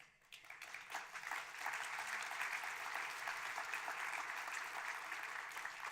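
At a summit on ending violence, an audience breaks into applause: a broad, even wash of many hands clapping, rising quickly and holding steady at a moderate distance.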